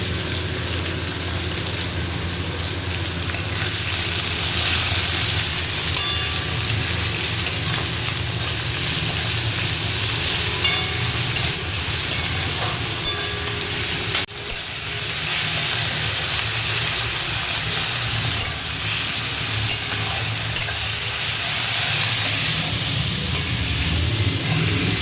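Chicken cooking in a hot pan gives a steady, dense sizzle and crackle that carries through the whole stretch, with occasional soft stirring knocks and no voices.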